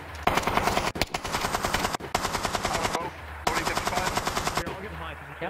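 Rapid bursts of automatic gunfire in a VRChat prison-riot roleplay game, loud and close, several sustained volleys separated by short pauses, with faint voices underneath.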